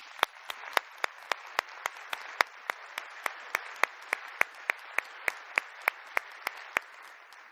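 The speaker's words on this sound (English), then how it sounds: "let's give them a big round of applause." Audience applause for a team of volunteers at a critical care society gathering, heard as a run of sharp, evenly spaced claps at moderate distance with no talk over them.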